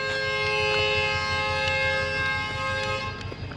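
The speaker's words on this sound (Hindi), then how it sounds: "NLC का लोकोमोटिव जो है उसका हॉर्न सुन लिया आपने, वो डिपार्ट करने लगी है कोल ट्रेन" An NLC locomotive horn sounds long and steady as a coal train departs a railway station, a loud sustained tone over rhythmic engine throb, fading slightly at the end.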